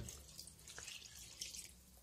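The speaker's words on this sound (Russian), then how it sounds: "Итак, заливаем все водой." Water poured from a container over chicken and buckwheat in a clay pot, a soft steady trickling and splashing that runs for about two seconds, close by and moderately quiet, with no talking.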